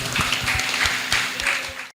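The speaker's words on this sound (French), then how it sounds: "Sous vos applaudissements, s'il vous plaît." An audience at a French-language event on educating disabled children gives dense, continuous applause that fills the room, then cuts off abruptly.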